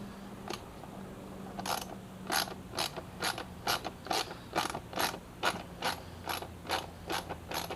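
A ratchet tightens nylon lock nuts on a crashed Yamaha FZ6R being rebuilt, about a dozen quick clicking bursts in an uneven rhythm, close but fairly quiet, with no speech.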